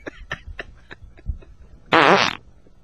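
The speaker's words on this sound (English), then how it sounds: "I can't believe that I'm being offended by someone else's fart." Several short, sputtering pops come first, then one loud, drawn-out, buzzing fart lasting about half a second, heard close up with no talk over it.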